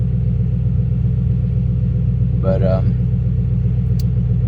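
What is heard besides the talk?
car with Toyota 1UZ-FE engine running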